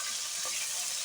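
Fish rubbed with turmeric, chili and salt frying in hot oil, a steady close hiss and crackle of sizzling over about a second.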